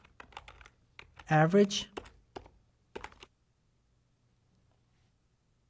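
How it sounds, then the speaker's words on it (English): A computer keyboard is typed on in quick, close clicks while a formula is entered, with a voice speaking briefly partway through before the keys stop and near silence follows. "I'm going to type in a formula"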